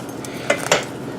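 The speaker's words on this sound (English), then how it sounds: "So we are going to transfer the meat into these pans." Slow-roasted pork pernil lifted into metal pans, giving two clanks of metal against metal close by in a quiet kitchen with a faint background hiss.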